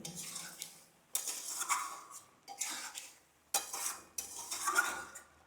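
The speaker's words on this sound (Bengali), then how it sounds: "দেখো এরমভাবে এটাকে ঘাটতে হবে ঘাটতে ঘাটতে যে চিনিটা গলে যাবে" A spoon stirs a milk and sugar mixture for sandesh in a pot, making quiet scraping, clinking strokes that come in about four separate bursts with short pauses between them, and no talking.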